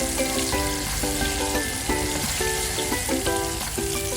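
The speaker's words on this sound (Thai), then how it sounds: "แล้วนำลงทอดได้เลยครับ ทอดด้วยไฟกลางค่อนแรงนะครับ ทอดไล่ความชื้นไปเรื่อยๆครับให้ปลาของเรากรอบ" Tilapia fish deep-frying in hot oil over medium-high heat, a steady, dense sizzle and crackle running continuously throughout, loud and close with no talking.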